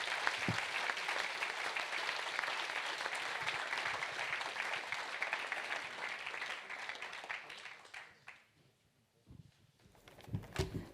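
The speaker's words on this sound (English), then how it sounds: "Just give them one final round of applause." Conference audience applauding at the close of a session, a dense sustained wash of clapping for about eight seconds that then thins out into scattered claps and a brief lull, with a few late claps near the end.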